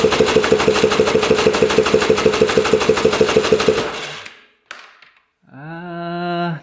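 A 4x4 ATV engine cranks over on the starter with the throttle held open for a compression test: a loud, steady, rapid chugging pulse for about four seconds. It then stops, followed by a brief clack and a short tonal whine.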